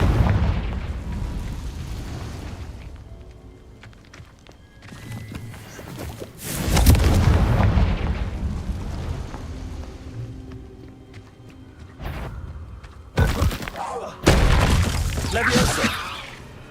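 Confringo fire blast spells in the Hogwarts Legacy video game go off as repeated loud, close booms with crackling bursts and sharp impacts, separated by quieter stretches of rumbling game sound, while a person talks intermittently.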